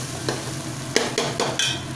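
Rice and lentils fry in oil in a pot, a steady close sizzle broken by several distinct scraping stirs of a spoon, with no talking.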